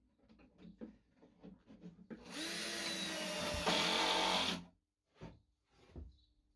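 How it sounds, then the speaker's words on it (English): A power drill bores pocket holes in wood for a router cart, one sustained high whining burst of about two seconds, close and loud, framed by light knocks and taps of handling before and after. "So I'm just going to put some pocket holes in here."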